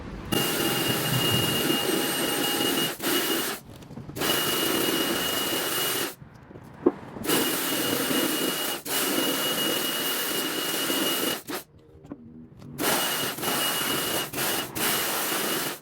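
A jet washer cleaning metal car parts gives a loud, steady high-pressure hissing spray that runs almost continuously, broken by a few short pauses where it cuts off and restarts.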